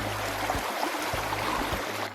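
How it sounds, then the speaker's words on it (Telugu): Mountain stream water pours steadily at the Penchalakona waterfalls, a dense, even rush with no break and no voices. "ఈ వాటర్ సౌండ్ ఎంత బాగుందో కదా"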